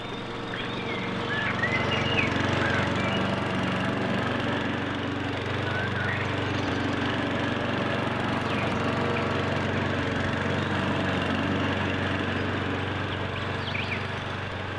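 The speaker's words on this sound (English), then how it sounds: "Rand Paul's first time on a riding lawnmower since his accident" A riding lawnmower engine runs steadily and continuously at moderate volume with a constant droning hum and no pauses.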